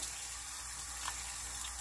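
Tap water running steadily while rinsing ferns, a constant, fairly close hiss of flow with no pauses and no talk.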